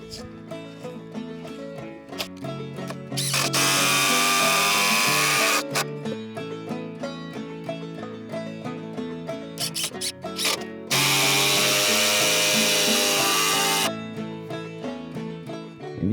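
Screws are driven into wood for a building project, with a power drill whirring in two long loud bursts between shorter clicks and bumps of handling.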